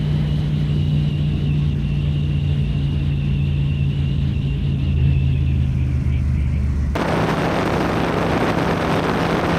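Motorcycle on the move captured by an Insta360 X5 action camera fitted with a wind guard: steady low engine rumble and road noise with airflow hiss, continuous and fairly loud, brightening into broader wind roar near the end.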